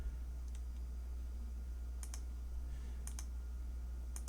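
Crisp single mouse clicks, close and sharp, arrive in small pairs spaced a second or so apart over a steady low electrical hum.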